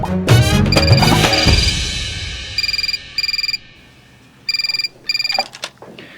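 A telephone rings in two pairs of short electronic trills, following a burst of louder noise at the start.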